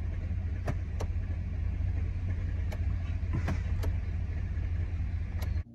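A Chevrolet truck idles with a steady low rumble as its shift lever is moved through each gear range, with a few faint clicks and knocks as the transmission engages, all heard up close and without speech.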